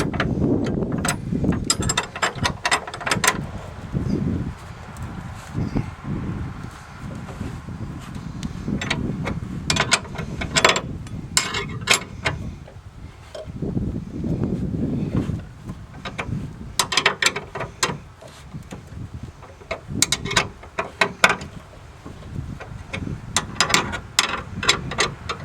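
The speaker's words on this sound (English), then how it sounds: "you take a 3/4 inch box end wrench or something else that's 3/4 inch and tighten them up" Someone tightens the bolts of a Backrack bracket on a 2018 Toyota Tacoma TRD with a 3/4 inch box end wrench. Close metallic clicks and clanks come in irregular bursts with fumbling handling noise throughout.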